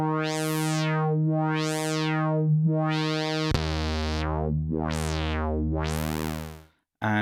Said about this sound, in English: And high sounds like this.